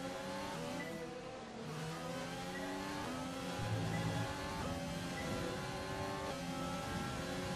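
A Formula 1 car's engine in F1 2020 at the French Grand Prix, a steady high-pitched whine rising and falling through gear changes, constant and close throughout with no talk.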